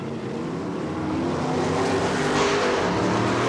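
BriSCA F1 stock cars roar around a slippery oval at Northampton during the International Cup, a loud sustained drone of several engines that swells steadily as the pack comes off the turn.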